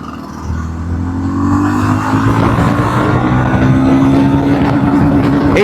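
A 350cc cruiser motorcycle accelerates hard in fourth gear while overtaking, its engine note rising steadily and loud and close, with rushing road and wind noise underneath.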